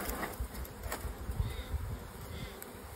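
Honey bees buzzing during a cut-out from a possum box, a continuous mid-distance drone of many insects with occasional sharper passes near the microphone, with no talk over it.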